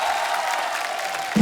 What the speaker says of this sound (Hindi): जोरदार तालियां सरानी साहब के लिए